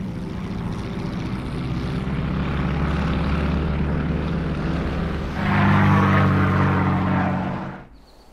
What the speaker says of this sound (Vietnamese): Máy bay Tây Sơn xin cất cánh.